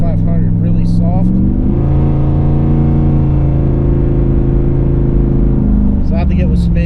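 Chevrolet Camaro Z28 engine roaring loud and close under full-throttle acceleration, pitch climbing and then dropping with automatic gear shifts, while someone talks over the noise.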